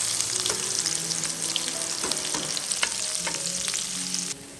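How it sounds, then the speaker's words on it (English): Onions sautéing in melted butter in a pan, a steady close sizzle and crackle throughout with occasional stirring scrapes and a faint underlying hum. "When the butter melts, I add the onions and sauté them first."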